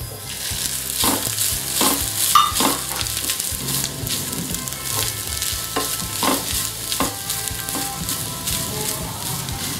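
Cashews, raisins and grated coconut fry in a pan for Malabar elanchi, giving a steady close sizzle with repeated bursts of stirring and scraping throughout, and no voices.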